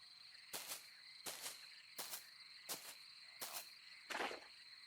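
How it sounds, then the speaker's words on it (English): Swamp ambience from a PS1 horror game demo: a steady insect or frog drone with six rhythmic rasping pulses, each about a second or so apart, fairly quiet and with no talking. "Hence all the frogs and mosquito noises and just frokiness."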